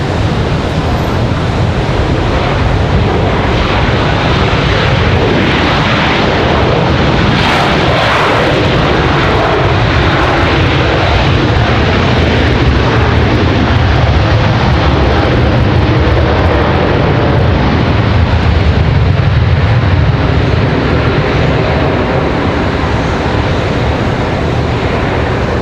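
Boeing 737-900 jet at Raleigh Durham airport, a steady loud broadband engine roar holding for the whole stretch with no talk.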